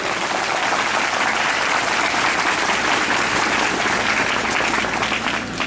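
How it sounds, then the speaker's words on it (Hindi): A congregation at a Hindi-language church service claps loudly in praise of God, a thick, sustained roar of many hands applauding together, steady and close for the whole stretch with no speech over it. "एक बार जोरदार तालियां बजाएं परमेश्वर की महिमा के लिए"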